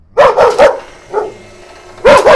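A dog barks loudly and close, three quick barks, a softer yip, then another pair of sharp barks, with no talk over them.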